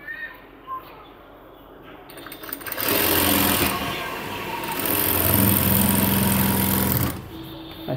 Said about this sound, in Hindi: ऐसा ऐसे रखने के बाद एक सिलाई लगा लेंगे यहाँ पर।